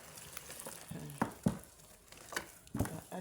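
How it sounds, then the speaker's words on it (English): Liquid soap mixture with Natrosol is stirred in water, giving soft, wet sloshing and scraping with irregular clinks from the utensil against the container, close and quiet. "continue to stir."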